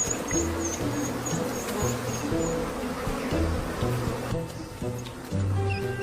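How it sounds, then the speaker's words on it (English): African honeybees buzzing, a faint, steady insect hum running throughout beneath a soft tonal background. "African honeybees sting 10 times more frequently than their European cousins."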